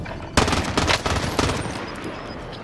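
Rapid gunfire in Call of Duty Warzone rattles in several quick bursts over a steady noisy game backdrop, loud and close.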